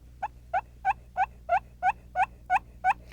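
A turkey call imitates a hen's putt, giving nine short, sharp clucks in an even rhythm about a third of a second apart, close and clear with no talking.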